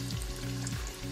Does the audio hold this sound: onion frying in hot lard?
yes